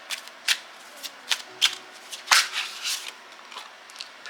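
Oracle cards being shuffled by hand, close up, in a series of short crisp riffling bursts with brief pauses between them.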